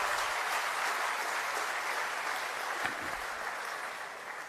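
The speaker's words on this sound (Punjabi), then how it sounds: "ਜ਼ੋਰਦਾਰ ਤਾੜੀਆਂ ਨਾਲ ਅਸੀਂ ਸਵਾਗਤ ਕਰੀਏ" A crowd at a Punjab event applauds to welcome Chief Minister Bhagwant Mann. Sustained, even clapping from many hands fills the whole moment at moderate loudness.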